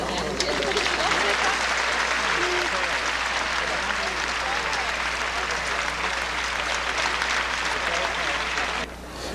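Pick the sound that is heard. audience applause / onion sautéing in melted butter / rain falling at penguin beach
audience applause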